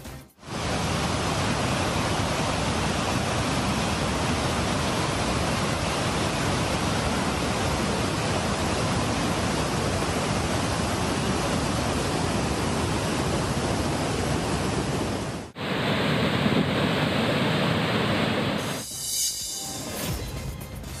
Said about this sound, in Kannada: ಜಲಾಶಯದಿಂದ ನೀರು ಬಿಡುಗಡೆ ಆಗ್ತಾ ಇದ್ದಂತೆ ಜೋಗ ಜಲಪಾತ ಬೋರ್ ಕೊರಿತಾ ಇದೆ.